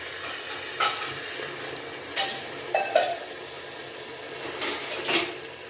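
Lightly fried bitter gourd is tipped into a pan of chicken and stirred, with short bursts of scraping and clatter over a low sizzle. No one speaks.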